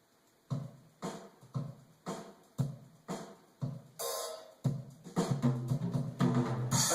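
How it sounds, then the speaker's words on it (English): A sampled drum track played through the Garritan sampler, with steady kick and snare hits, cymbal crashes and busier fills building toward the end, at moderate volume with no talking. "when you play it back, as an example, through the Garritan sampler"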